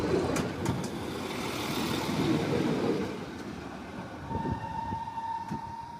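A diesel train rumbles past at an unfenced spot, loud and near with a broad rushing roar and clattering wheels that ease off, followed by a thin sustained horn-like tone as it moves away.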